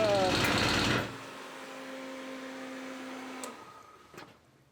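A rare Suzuki RF900 motorcycle engine, just brought back to running after idle adjustments: a loud rough burst at first, then a steady, close idle hum that slowly fades. No voices.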